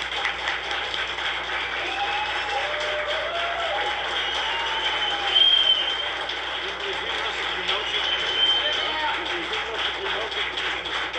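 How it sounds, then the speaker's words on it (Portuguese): A crowd in a congressional committee hearing room claps continuously for a group of people, a moderate, even wash of applause with raised voices calling out over it. "Palmas para essas pessoas."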